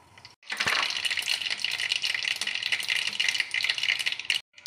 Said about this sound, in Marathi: तेल गरम झाल्या मोहरी